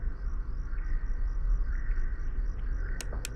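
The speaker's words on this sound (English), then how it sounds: "Those crickets are louder than anything." Crickets chirp steadily in a quiet horror video game scene, a soft, evenly pulsing high trill over a low background hum, with a couple of brief sharp clicks near the end.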